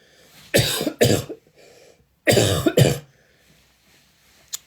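Two pairs of sharp, close coughs, separated by a short pause, with quiet breathing afterward.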